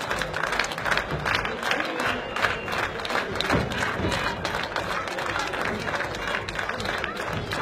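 Arena crowd at a wrestling match claps and cheers in a dense, steady roar that holds the whole time, with a commentator's voice running underneath.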